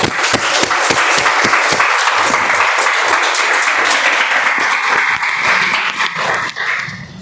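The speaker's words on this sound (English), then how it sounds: "let's give a huge round of applause to all our evaluators" Members at a Toastmasters meeting give the evaluators a round of applause: loud, continuous clapping with distinct sharp claps standing out early, sustained for about seven seconds and tapering off near the end.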